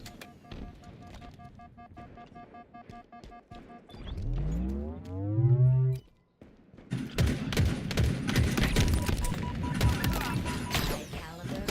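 Gunfire in the video game Halo Infinite during a multiplayer match: bursts of rapid shots and thuds, a rising whooshing effect and a loud blast in the middle, then dense, sustained firing and impacts.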